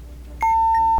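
A single clear electronic beep rings from flashing buttons in a video game, a steady tone lasting about half a second with no talk around it.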